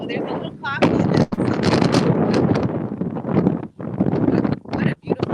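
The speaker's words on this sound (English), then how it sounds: "really windy." Strong gusting wind on a Tahitian pearl farm, buffeting the microphone with loud, broadband roaring that fills nearly the whole clip, with only brief lulls, while a voice speaks faintly under it.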